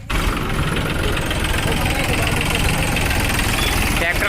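A tractor engine idles close by near the Paniyari waterfall in Banaskantha, a loud, rough, continuous rumble with a knocking vibration, while people talk over it.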